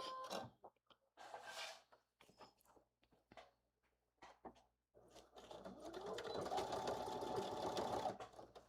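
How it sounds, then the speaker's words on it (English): A sewing machine stitches the lining of a Rome fanny pack. After a few seconds of quiet handling noises, a steady close mechanical whir starts up and runs continuously. "now I'm going to sew the lining on."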